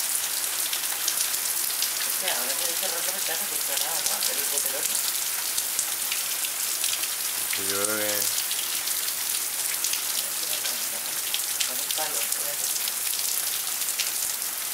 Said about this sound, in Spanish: mira qué goterrones hay ahí